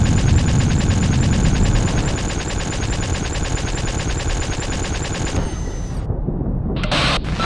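Ship weapons in the space combat game Spacebourne fire at targets in a dense, continuous rapid-fire burst with layered booms, then cut out briefly before a final flurry.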